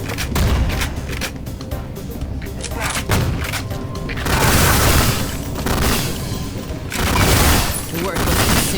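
Gunfire and shotgun grenade explosions in the video game Ion Fury: repeated loud booming blasts and volleys in irregular bursts, with someone talking over them.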